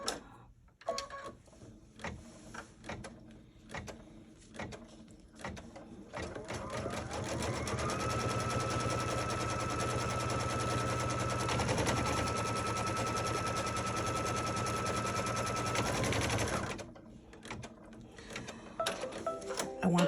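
A sewing machine runs continuously for about ten seconds, stitching a placement line for silver foil on a quilted pie block, a loud steady mechanical whir that starts and stops cleanly, with a few clicks and handling sounds around it.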